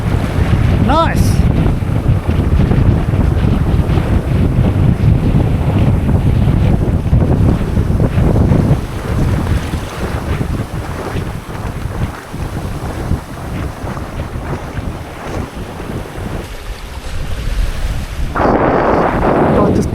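Gusty wind buffeting a sailboat under way on Norfolk Bay, Tasmania, with loud roaring microphone wind, rushing water along the hull, and a brief lull in the gusts before they pick up again.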